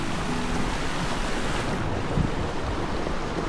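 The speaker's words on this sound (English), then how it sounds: "Over here we've got a flow of water coming in from a couple of" Water flowing in from a couple of streams at Creswell Crags makes a continuous outdoor rushing wash, with some wind noise on the microphone throughout.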